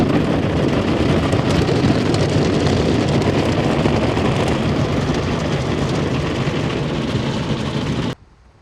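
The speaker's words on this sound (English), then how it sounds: "go through a car wash that has an undercarriage sprayer on it, and that's what we're doing right now" An undercarriage sprayer at a car wash blasts water beneath a truck, a loud, continuous rushing hiss that holds steady for several seconds before cutting off abruptly.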